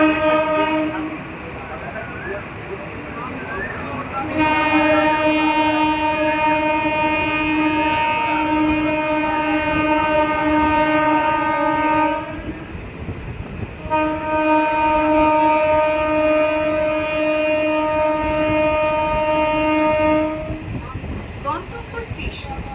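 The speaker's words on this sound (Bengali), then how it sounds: "আমাদের ট্রেন এসে পৌঁছালো শ্যামনগর স্টেশন।" A local train on the Budge Budge–Naihati line pulls into Shyamnagar station, sounding two long, loud horn blasts over a steady rumble of wheels on rails.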